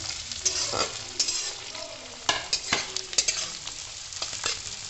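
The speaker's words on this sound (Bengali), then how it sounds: "বিনস দিয়ে একটু নাড়াচাড়া করবো।" Beans being stir-fried for chowmein in a hot pan, a steady sizzle with repeated scraping stir strokes and clanks, close and fairly loud with no talking.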